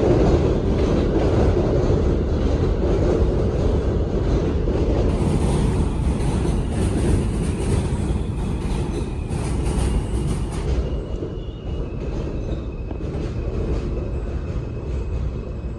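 A New York F subway train rumbles into a Brooklyn station, a steady low roar with a high metallic squeal partway through that fades as the train settles.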